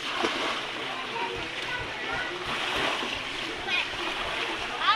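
Swimmers splash in the sea, a steady wash of water churned close by throughout, with voices talking over it.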